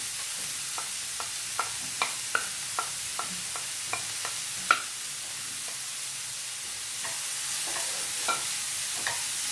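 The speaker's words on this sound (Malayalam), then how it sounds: "പിന്നെ നമുക്ക് ഈ മഷ്റൂമും കൂടെ ഇതിലിടാം." Sliced mushrooms frying in a pan while a spoon stirs them, giving a soft steady sizzle and hiss with a regular series of sharp scraping and clinking strokes against the pan.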